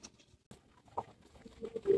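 Homing pigeons arrive at the loft, with faint soft coos, a few light flutters and pattering around the roost, quiet and close.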